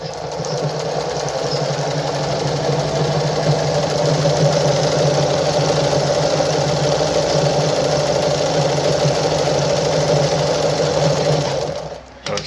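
A Pfaff 130-115 sewing machine sews a zigzag stitch at a reduced stitch length, with a loud, continuous, rapid mechanical hum and chatter close by for about twelve seconds before stopping abruptly.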